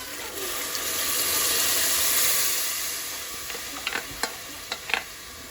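Bean-cooking water pours steadily into a pot for Haitian rice and beans with a soft rushing splash that swells and fades, followed by a few light metallic clinks.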